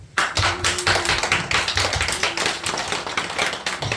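A church congregation at a Sunday morning worship service claps together in a steady, dense burst of applause, loud and close, with no talking over it.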